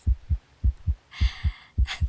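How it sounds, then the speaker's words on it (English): A heartbeat thumps close and clear, eight low pulses grouped in quick lub-dub pairs at an even rhythm, with faint airy hiss briefly rising behind two of the beats. "I can hear your heartbeat from here."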